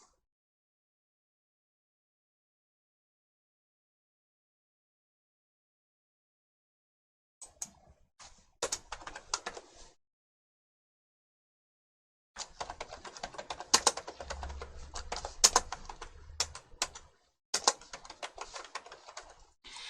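Typing on a computer keyboard while editing button text in a smartphone app coding tool: short bursts of quiet clicking keystrokes separated by long silences, the second burst longer and denser.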